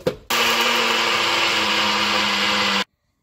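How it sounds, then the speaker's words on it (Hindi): An electric grinder runs at full speed, powdering roasted Bisi Bele Bath spice masala with a loud, steady whirring roar for about two and a half seconds before stopping abruptly into silence. "अब हम इसे पीस लेंगे, पीस करके हम इसका पाउडर बना लेंगे।"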